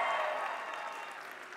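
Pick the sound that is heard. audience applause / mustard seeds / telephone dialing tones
audience applause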